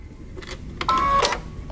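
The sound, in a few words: sewing machine stitching tee shirt seam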